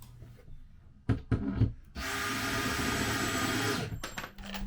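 A drill drives a screw into a wooden triangle brace on a bench that converts into a bed: a few close knocks and taps, then a steady, loud whirring run of about two seconds before it stops.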